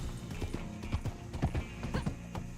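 Horse hooves clip-clop unevenly in the video game Red Dead Online, mixed with a whinny, moderately close over a low game backdrop.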